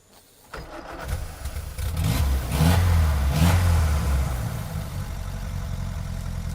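A 1950 Ford Prefect four-cylinder car engine, choke applied, cranks, catches and starts, revving briefly before settling into a loud, steady idle.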